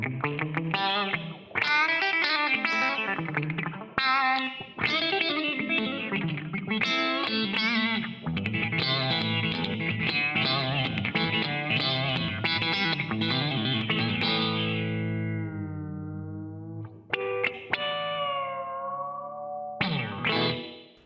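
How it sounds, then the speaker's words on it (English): Electric guitar through a Wampler Terraform envelope filter pedal, a continuous run of distorted, effected notes and chords with a sweeping filtered quality, ending on long ringing sustained notes and a final strum. "And this is an envelope filter."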